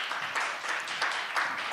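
An audience claps to welcome panelists onto the stage at a conference session, a soft, fairly distant patter of applause that stays even throughout.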